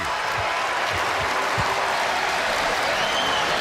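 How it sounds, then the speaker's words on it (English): A basketball arena crowd at a college game roars and applauds after a dunk, a steady dense wall of cheering throughout with no clear talk on top. "But the crowd is definitively back in it now here at the dunk."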